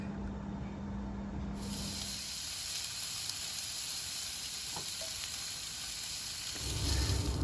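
Sirloin steak and a couple of eggs sizzle on a Ninja wood fire grill running on 240 volts, a steady close broadband hiss that lasts throughout, with no talking.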